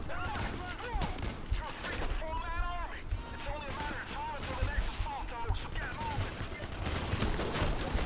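Gunfire in the video game PayDay on the Green Bridge heist, with a player using a shotgun: dense, sustained volleys of shots continue throughout, mixed with in-game voices and calls under the shooting.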